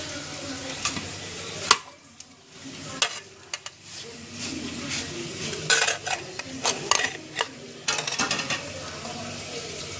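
Spleen frying in a pan, seasoned with salt and pepper and flipped over: steady sizzling with sharp clinks and scrapes of a utensil against the pan, close and fairly loud.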